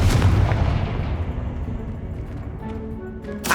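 A Confringo blasting spell in Hogwarts Legacy sets off a heavy, booming explosion up close that rumbles and fades away over a few seconds, followed by a brief, sharp burst at the end.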